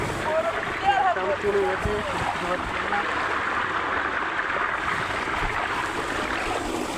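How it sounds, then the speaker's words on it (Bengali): Two potatoes being washed by hand produce continuous close sloshing and splashing water, with someone speaking briefly over the start. "তো এখন আমি আলু দুটোকে ধুয়ে নেবো। তো দেখো, এই যে আলু ধুয়ে নিচ্ছি।"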